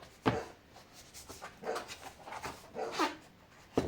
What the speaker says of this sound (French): Ce n'est rien, c'est ma chienne.